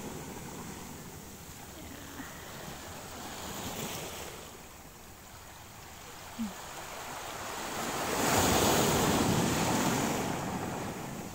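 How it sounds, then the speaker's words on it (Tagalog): Ocean waves wash and break continuously on a beach during fishing, swelling louder toward the end, with wind noise blowing across the microphone. "Malaki pa yung tubig, tapos may alon din."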